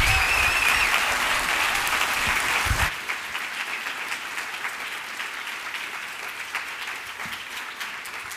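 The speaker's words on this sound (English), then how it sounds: "Can we give Michael another really wonderful round of applause?" A live audience at a creative morning talk in New York applauds loudly for several seconds, then the clapping drops to a thinner, quieter patter that continues to the end.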